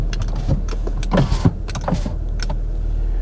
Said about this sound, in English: Do my windows work?